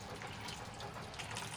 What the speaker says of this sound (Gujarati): તો 1/2 કપ આપણે પાણી એડ કરીશું